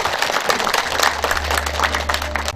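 Applause breaks out among the crowd at a Buddha's Birthday ceremony at a Korean temple, a brief burst of scattered clapping over a low steady hum.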